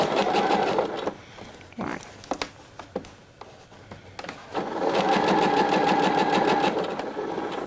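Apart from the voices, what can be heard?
sewing machine stitching a blouse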